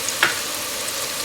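Soft, steady sizzle of onions with salt and pepper frying in a pan, with a brief clink of a utensil near the start.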